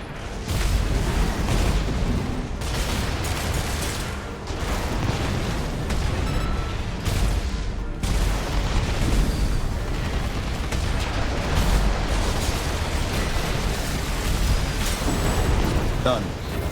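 Heavy explosions and booming blasts from Armored Core VI mech combat, a dense continuous barrage of bursts and rumbles lasting throughout, with game action noise layered under occasional talk.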